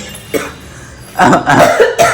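A person coughs, a short cough at first followed by a louder burst of several harsh coughs, close to the listener.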